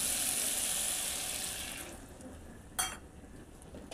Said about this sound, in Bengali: সর্ষে বাটার জলটা আমি দিয়ে দিলাম